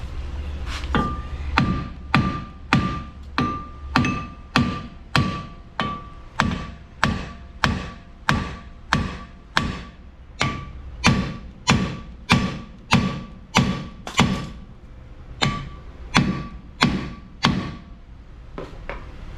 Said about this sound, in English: Then we get it separate with the hammer.